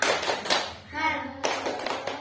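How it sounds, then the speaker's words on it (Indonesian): Schoolchildren in a primary classroom do a rhythmic spirit clap, with bursts of sharp, near hand claps broken briefly by a spoken voice before the clapping resumes. "coba tepuk semangat dulu nih"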